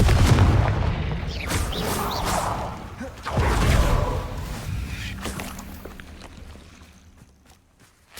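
Confringo fire spell explosions in Hogwarts Legacy, a couple of deep booming blasts with whooshing flares, the second near the middle, then fading rumble and quieter game sounds.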